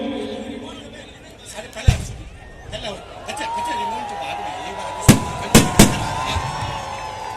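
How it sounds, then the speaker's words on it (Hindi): Fireworks pop and bang in sharp bursts, one early and a quick cluster of three later, over a murmuring crowd and a voice speaking nearby, at a Dussehra Ravana effigy burning. "आतिशबाजी शुरू हो रही।"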